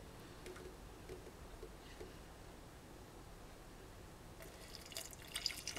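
Hot water is poured into a glass holding Mucuna pruriens powder: a faint, steady trickle with drips that grows brighter and splashier near the end, with no talking.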